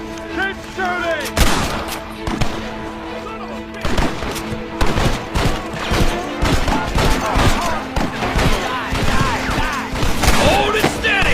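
A Red Dead Redemption shootout fills the air with dense, loud gunfire: rapid overlapping shots and sharp bursts, with shouted voices mixed in now and then.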